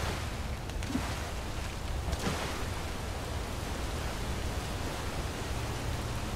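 A waterfall in the video game Skyrim rushes as a steady, broad wash of noise, continuous and moderately loud with no voices.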